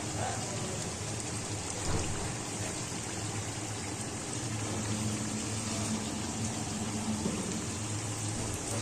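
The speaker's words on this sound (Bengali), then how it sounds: "এর গায়ে যেটা লেগে রয়েছে এটা আমি জল দিয়ে দেবো ওর মধ্যে" Water is poured into a bowl of ground cashew and poppy seed paste, giving a continuous soft splashing trickle that stays fairly even and close throughout.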